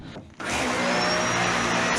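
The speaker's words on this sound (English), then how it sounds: "Let's see if the vacuum will run off the EcoFlow Delta 2 Max." A vacuum cleaner running off an EcoFlow Delta 2 Max portable power station kicks on after a brief pause, then holds a loud, steady whining roar with a faint high-pitched tone, close to the microphone and without talk.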